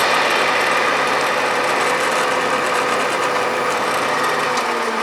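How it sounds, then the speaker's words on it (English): A center drill spots a hole in metal on a machine tool, giving a steady, dense, loud running whir with a bright, high-pitched cutting hiss that holds unbroken throughout. "So with the center drill in there, I will go ahead and spot the hole"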